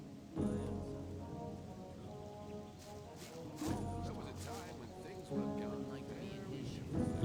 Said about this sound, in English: I love the rain in Gothic.